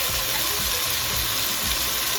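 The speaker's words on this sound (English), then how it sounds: "So I'm going to add a little bit of water" Water pours steadily into a pot of peas for vegetable soup, a close, continuous splashing gush with no talking.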